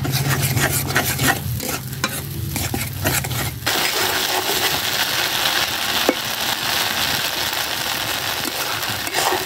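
Chicken gizzards sizzle and bubble steadily in a pan, with stirring scrapes early on, a continuous close frying hiss throughout.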